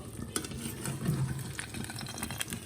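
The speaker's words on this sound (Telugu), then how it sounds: "సిమ్లో పెట్టి నెమ్మదిగా వేగనివ్వాలి దీన్ని" Dibba rotti, a rice-lentil bread, fries slowly on a low flame with a quiet, continuous sizzle and a few light crackles, heard up close.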